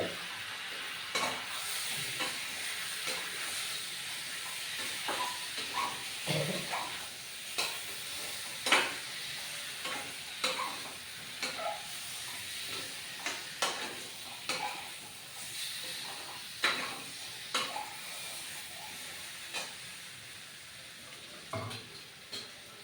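Potatoes sizzling and frying in a pan while being stirred, with a steady hiss broken by repeated scraping stir strokes throughout; no talking.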